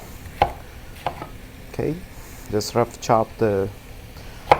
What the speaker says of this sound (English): dice it or slice the tomatoes, at least 2 whole big tomatoes